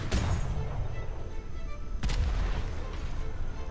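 Ship cannons fire at pirates in the game Atlas, two heavy booms about two seconds apart, each trailing into a long rumbling roar.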